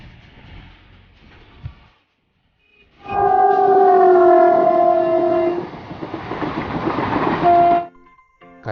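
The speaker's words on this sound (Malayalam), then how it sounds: "പാമ്പൻ പാലത്തിലൂടെ മണിക്കൂറിൽ 5 കിലോമീറ്റർ വേഗതയിലാണ് ട്രെയിൻ സഞ്ചരിക്കുന്നത്." A train creeps across the Pamban bridge at walking pace, sounding a long, loud two-tone horn blast over the rumble and clatter of the wagons, then a shorter horn note near the end.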